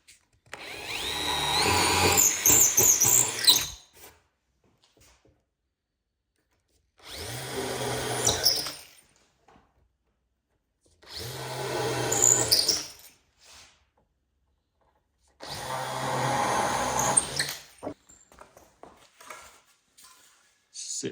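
A power drill drives a screw into wooden mantel moulding in four separate bursts of whirring, each lasting two to three seconds with quiet pauses between, close and fairly loud.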